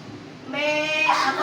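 A child imitates a goat's bleat, a single wavering, harmonic vocal call of about a second, close and fairly loud, during a classroom lesson about familiar animals.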